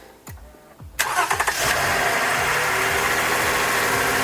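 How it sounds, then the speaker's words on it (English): A car engine cranks a few times and then catches and starts up during a battery and alternator test, settling into a steady, close idle with no talking. "let's go ahead and start the engine now"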